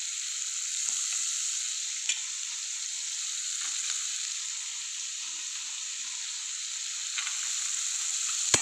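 Chopped onions fry in hot oil in a pan for egg karam pulusu, giving a steady, even sizzle with occasional soft clicks of stirring and no talking.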